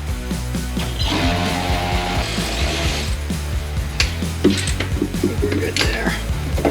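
A hand ratchet and socket turns fuel pump bolts on a 2003 Ford Mustang, giving close, rapid runs of clicking interrupted by small metallic knocks and clanks.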